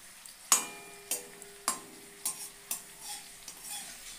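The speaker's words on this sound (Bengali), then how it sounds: "দেখো ভাজা হচ্ছে" Sliced potatoes frying in hot oil in a home kitchen, a faint steady sizzle punctuated by a series of sharp utensil clinks and scrapes against the pan at roughly half-second intervals; no talk.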